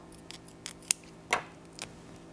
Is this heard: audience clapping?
no